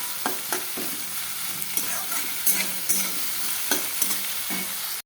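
Food frying and being stirred in a kadai (wok) while cooking tomato and masala, a steady sizzle under repeated scraping and stirring clinks, close and fairly loud, with no talking.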